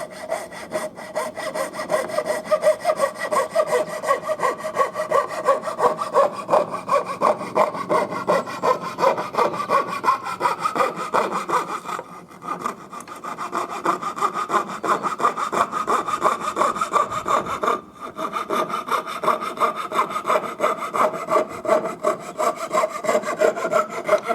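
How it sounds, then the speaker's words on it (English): Coping saw cutting wood in steady back-and-forth strokes, close and loud, running continuously with two brief pauses. "it does work very quickly and very easily with a coping saw"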